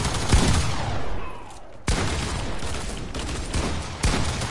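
Heavy video game gunfire roars in dense, overlapping bursts, loud and close, with sharp shot onsets cutting through a continuous wash of firing.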